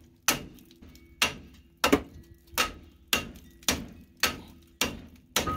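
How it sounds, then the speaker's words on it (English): Hammer blows knock a part off a third-generation Chevrolet Camaro: seven sharp metallic strikes at a steady, roughly once-a-second rhythm, close and loud, each ringing briefly before the next. "now I have to use a hammer to get it off"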